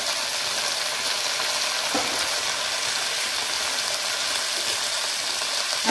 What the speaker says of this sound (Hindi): अब हम इसमें डालते हैं ये अपने टमाटर, और साथ ही में डाल देंगे ये हरे धनिए की पत्तियाँ।